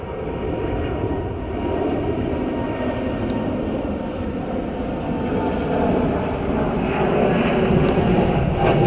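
Airplanes flying overhead near an airport above open land at Binh Hung Hoa, a continuous loud engine rumble and roar that holds steady and swells slightly toward the end, with no talk.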